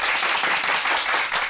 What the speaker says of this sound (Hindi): ताली।